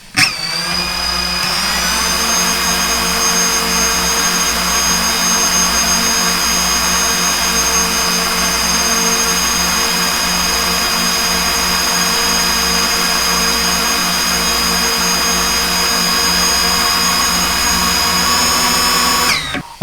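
DJI FPV drone fitted with AFOIS propellers, its rotors producing a loud, steady, high-pitched whine and buzz close by for the full length, with no talk.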